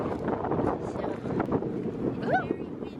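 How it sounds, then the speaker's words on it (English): Strong wind roars and buffets the microphone steadily throughout, with a person's voice faintly mixed into the gusts. "it's very windy and it's a lot colder than yesterday"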